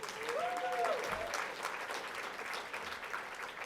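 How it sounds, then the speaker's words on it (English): Audience at a mayor's small business conference claps steadily in a continuous, moderately distant wash of applause, with a brief whistle near the start. "Y'all clap really loud for them."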